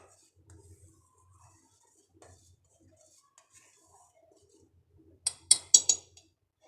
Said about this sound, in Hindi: तकरीबन इसको 5 मिनट आपने लाजमी ऐसे चलाना है, हल्की आंच करके इसको पकाना है।